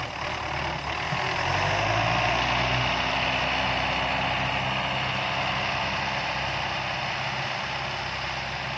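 A Belarus 510 tractor engine runs steadily while spraying potatoes, giving a loud, constant droning rumble mixed with a broad hiss, with no talk.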